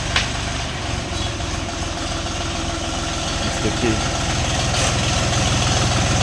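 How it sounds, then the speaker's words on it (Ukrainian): A Dongfeng 244G2 mini tractor engine runs steadily with a low, chugging rumble while a person speaks briefly over it. "супербомбезний трактор їде до своїх власників."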